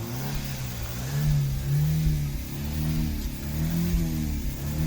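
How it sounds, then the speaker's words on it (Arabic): Car engine revved repeatedly to bring it up to operating temperature while the cooling fan controller is checked, a steady mid-pitched drone rising and falling in gentle surges, close and continuous with no talk. "هنزود بنزين علشان المحرك يوصل لدرجة الحرارة المطلوبة"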